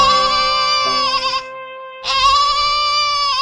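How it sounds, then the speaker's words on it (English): A goat bleats loudly and close by in two long, wavering cries separated by a short pause. "Hey there, little goat."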